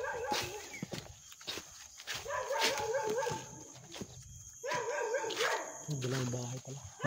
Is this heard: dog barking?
yes